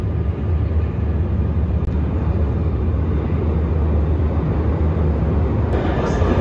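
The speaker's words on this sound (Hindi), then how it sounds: "ये मेट्रो स्टेशन है" Steady, loud ambience inside a Barcelona metro station: a constant low rumble of trains and the surrounding space runs without a break, and no clear voices stand out.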